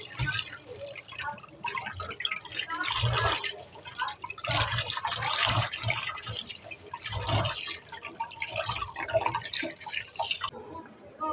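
Pangasius fish pieces rubbed with salt and washed by hand under water, giving steady splashing, dripping and sloshing in bursts at close range with no talk.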